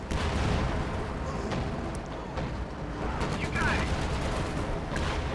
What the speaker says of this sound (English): I'm calling artillery down on this guy right here.